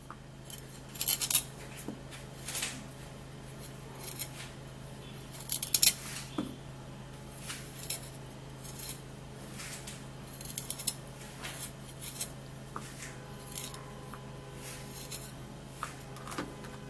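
Knife slicing through fresh ginger on a cutting board, a series of crisp, irregular cutting clicks and taps spread across the stretch over a steady low background hum, with no talking.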